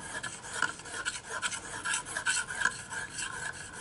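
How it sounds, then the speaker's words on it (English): An Opinel No 8 knife blade being sharpened on one side, a steady rasping scrape of repeated strokes close up, with no talking. "So basically, I'm only sharpening this side."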